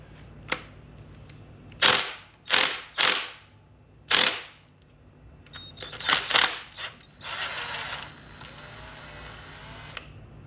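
A ratchet works a reverse-thread bolt on a VW EOS 2.0 TSI engine during a rebuild, with several sharp clicking bursts in quick succession, a short pause, more clicks, then a longer rasping ratchet run, close and alone.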